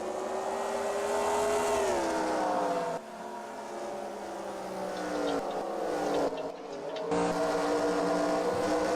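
Several race cars circle in NASCAR Racing 2003, a Dodge Charger stock car race, their engines droning loudly with rising and falling pitch as cars shift and pass, a steady close roar with brief dips.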